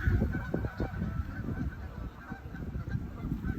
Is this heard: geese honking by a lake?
yes